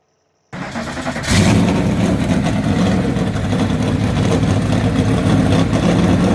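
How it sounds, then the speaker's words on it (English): Race car engines in a marble-racing broadcast start after a brief silence, then roar and rev loudly and continuously, a thick mechanical drone that stays strong to the end. "start your engines"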